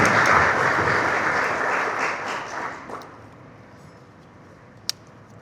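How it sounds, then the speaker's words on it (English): Audience applause at a mental health and brain science symposium, a broad wash of clapping that is loud at first and fades away over a few seconds, ending with one sharp click. "let's give her a big round of applause"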